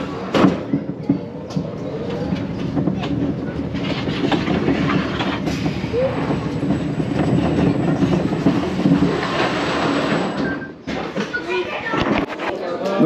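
A Vekoma Suspended Family Coaster train runs past with a steady rolling rumble and clatter that swells and fades, while people talk nearby throughout.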